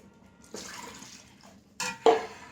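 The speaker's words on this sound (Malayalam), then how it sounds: "ഈ രണ്ടാം പാലും കൂടി നമുക്ക് അതിൽ ഒഴിച്ചു കൊടുക്കാം" Second coconut milk poured into a beetroot lehyam mixture cooking in a pan, a soft liquid splash and trickle that swells near the end into a louder gush and clatter, close by, with no talk.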